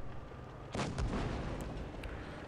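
Tank cannon fire in World of Tanks Blitz during a clan wars final, a heavy booming shot followed by a sustained rumbling roar, with a few sharper impact cracks later, fairly loud and close.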